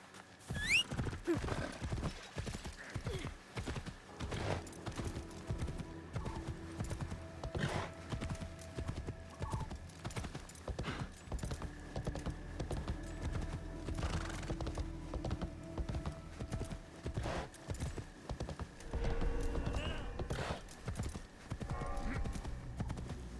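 Hooves clip-clop steadily as a horse walks through a town in Assassin's Creed Shadows, a clear, rhythmic run of close hoofbeats with an occasional whinny, game ambience and a few thunks underneath.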